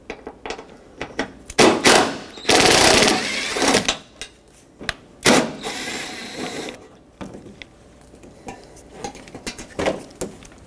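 Fender fasteners come off a 2012-2017 Toyota Camry in a run of sharp clicks, rattles and metallic clinks, with a few longer scraping bursts, close and irregular.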